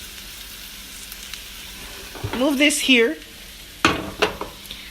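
Chicken curry cooks in a wok with a steady low sizzle and bubbling, broken by a few clattering stirs and scrapes of a utensil; a voice speaks briefly over the cooking.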